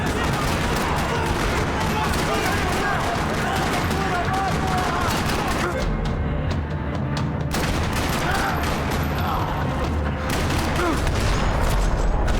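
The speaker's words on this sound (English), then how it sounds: "Another parking lot rattling with gunfire." Dense, rapid gunfire rattles continuously with explosive bursts across a parking lot in the video game Max Payne 3, loud and close, filling the whole stretch without pause.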